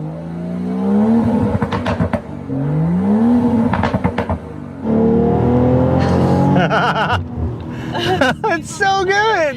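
A 2021 BMW X3 M40i engine revs hard during launch runs, its pitch climbing through rising sweeps and shifts, loud and close, with people talking over it.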